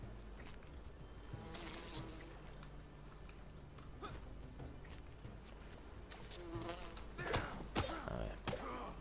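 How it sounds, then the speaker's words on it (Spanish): Bees buzzing in the video game Enshrouded, a steady insect drone with rising and falling buzzes close by, set against game ambience and without speech. "las abejas."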